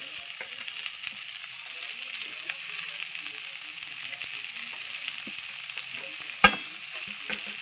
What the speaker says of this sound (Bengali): এইবার দিয়ে দেবো আমি কুচানো পেঁয়াজ